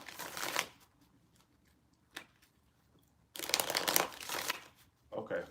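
A deck of cards is shuffled in two quick bursts of riffling, close and crisp, separated by quiet pauses with a couple of soft taps and a short final flutter.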